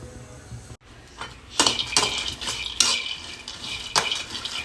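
Peanuts for peanut chutney shift and rattle in a pan as they are stirred, several close metallic scrapes and clinks over a faint frying hiss, fairly loud and with no talk.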